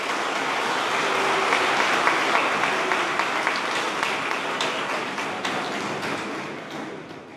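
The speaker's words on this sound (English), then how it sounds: "Let's give them one more round of applause for an excellent performance." Sustained applause from a concert audience after a performance, a dense wash of clapping that swells early, holds, then gradually tapers off.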